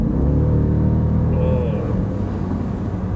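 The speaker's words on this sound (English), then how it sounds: "This car sounds a million times better though. When that V8 comes to life" A Jeep SRT Grand Cherokee V8 engine rumbles loud and close with a deep, steady drone, swelling slightly then easing back, a faint voice blending into the engine noise.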